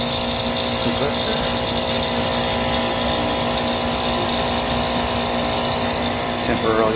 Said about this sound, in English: So just waiting for the compressor